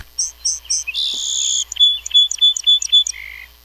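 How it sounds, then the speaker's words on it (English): A song sparrow song plays back from a Cornell bird call book, a bright run of high chirps, a buzzy trill and rapid notes, moderately loud and alone with no talking. "This is a song sparrow, and you just hit the thing."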